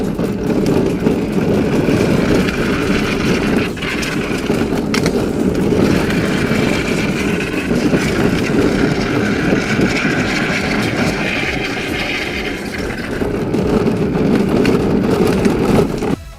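An electric drift mobility scooter spins donuts, giving a loud, continuous close-up whir of motor and scrubbing wheels that holds steady with slight swells throughout, with no voices.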